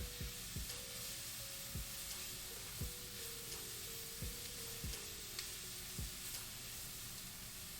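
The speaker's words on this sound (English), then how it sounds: "Gotta turn down my onions so they don't burn." Onions fry and caramelize in a pan on lowered heat, giving a soft, steady sizzle with faint, scattered pops and clicks throughout.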